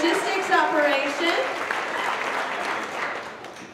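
Applause at a trucking company's monthly celebration as employees are recognized for years of service, a steady burst of clapping from the gathered crowd that starts strong and tapers gradually, with a voice audible over it near the start.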